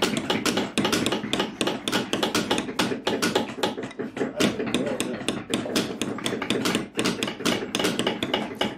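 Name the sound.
rawhide hammer tapping leather carving tools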